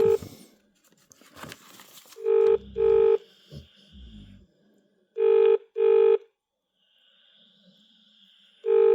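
A telephone rings unanswered, two paired bursts of electronic ringing repeating at regular intervals, loud and near, with some rustling and handling noise at the start.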